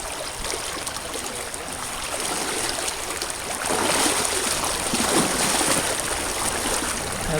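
A river stream rushes steadily nearby with continuous gurgling and splashing, growing a little louder partway through, with no voices.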